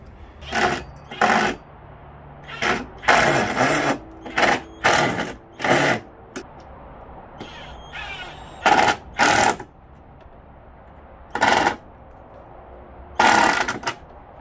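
A power drill runs in repeated short bursts while drilling a hole, about a dozen spurts of whirring with brief pauses between, loud and close with no talking.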